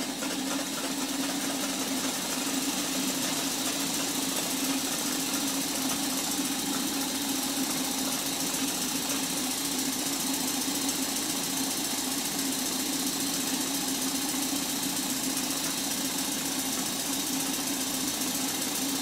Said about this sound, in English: The pressure's dropped, but the engine still runs.